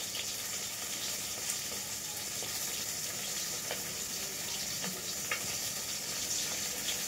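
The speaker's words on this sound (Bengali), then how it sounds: "তো মাছ ভাজা তো হয়ে গেছে" Bhola fish frying in oil in a pan, a steady broadband sizzle with faint crackles and pops running throughout, close and even, with no talking.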